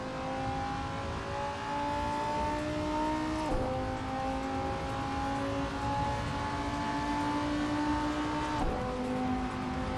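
A Lamborghini engine revs hard and steadily in the Assetto Corsa racing game, holding a strong, droning pitch that drops sharply at two gear shifts. It is loud and continuous, with no one talking over it.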